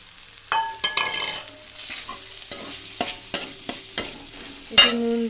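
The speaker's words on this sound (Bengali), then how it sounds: "চিকেনের পিসগুলো দিয়ে দিচ্ছি।" Chicken pieces fry with ginger, garlic and onion paste in a pan: a continuous sizzle punctuated by repeated sharp clinks and scrapes of a spoon against the pan.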